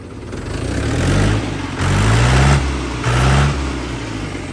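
An Escort 335 tractor engine runs loudly nearby, its heavy low rumble rising and falling in three revving surges.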